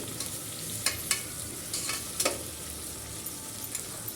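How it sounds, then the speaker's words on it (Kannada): Tomato and green chili frying in oil make a steady, close sizzle. Light scraping strokes from stirring sound now and then, with no voices. "ಟೊಮೊಟೊ ಮತ್ತು ಮೆಣಸಿನ್ಕಾಯನ್ನು ಹಾಕಿ ಅದು ಕೂಡ ಆಯಿಲನ್ನು ಬಿಡೋವರೆಗೂ ನೀಟಾಗಿ ಚೆನ್ನಾಗಿ ಫ್ರೈ ಮಾಡ್ಕೊಳ್ತಾ ಇದ್ದೀನಿ"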